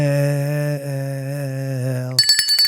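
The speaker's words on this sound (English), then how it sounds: "You can ring Doug's bell" A bell rings with a long, sustained harmonic tone, then it is abruptly damped and followed by a few short clattering knocks.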